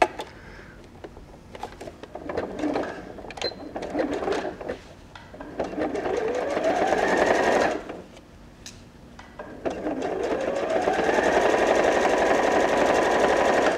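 A sewing machine stitches a zip onto an overnight bag, its motor whirring in long runs that speed up and pause briefly in between, close and steady.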